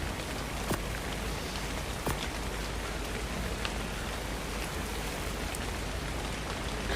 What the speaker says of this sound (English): The rain. Rain. The rain.